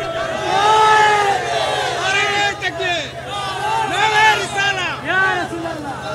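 A crowd at a Bangla religious sermon (waz) chants takbir over and over in loud, swelling waves of massed voices that whoop and cheer. A steady hum runs underneath.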